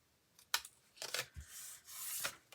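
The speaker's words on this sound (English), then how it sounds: "I'm going to flip this over and I'm going to just trim it" Paper being trimmed while making an Easter card: a few short, close rasping cuts and rubs in quick bursts, with a longer sustained scraping stroke near the end and no voices.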